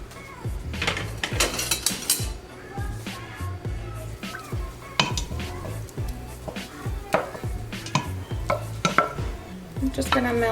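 Butter melting into a pan of green spaghetti sauce while it is stirred, with repeated clinks of a utensil against the pan and a soft sizzle running steadily underneath, close and fairly loud.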